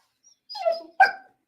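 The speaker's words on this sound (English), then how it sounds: "Let me let the dog out." A dog gives a short whimpering yelp followed by a sharper single bark, both close and clear against silence.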